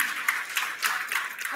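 A church congregation claps together in praise of God, a brisk spread of hand claps rising and falling in short bursts over about a second and a half, at a moderate distance.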